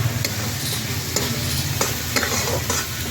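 Kanda batata poha, an onion and potato dish, is stirred in a sizzling pan over a wood-fired chulha as turmeric goes in. The close, continuous frying hiss is broken by regular scraping strokes of the spoon.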